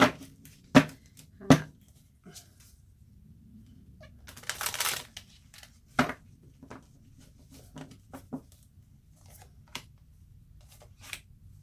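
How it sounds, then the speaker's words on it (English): Tarot cards shuffled by hand in a quiet room, giving scattered soft riffles and sharp slaps, with a denser riffling burst near the middle, fairly close and alone without talk. "So these cards actually get shuffled before I start my reading"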